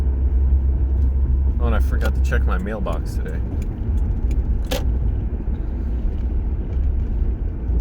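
Steady low road rumble of car traffic runs throughout, with a person talking briefly over it near the start.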